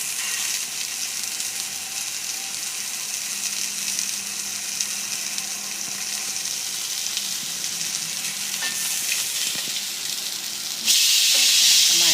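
Cod steaks and herbs sizzle steadily in a hot La Rose pan with a constant bright hiss, a few soft scrapes, and the sizzle suddenly intensifying near the end.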